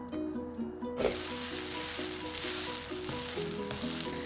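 A teddy bear shaped dosa crackles and sizzles steadily on a hot pan right after being flipped, a loud close hiss that swells suddenly and then holds with light spattering; no talking.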